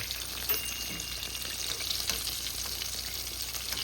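Chicken pieces for a fried chicken sandwich frying in a pan, a steady close sizzle and crackle of hot oil with a few light clinks, no talk.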